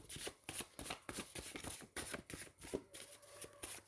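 Tarot cards shuffled by hand in a steady run of crisp riffling flutters and soft slaps, close and fairly quiet, with a faint hum underneath.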